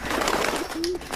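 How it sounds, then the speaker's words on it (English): Birds cooing in the LA Noire video game, a brief soft coo from pigeons or doves over a noisy ambient background, heard alone without talk. "Okay, there's birds."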